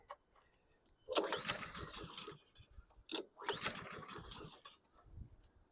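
Two bursts of a Troy-Bilt TB130 lawn mower's small gas engine being pulled over, each cranking briefly and dying without catching, with quiet pauses between attempts.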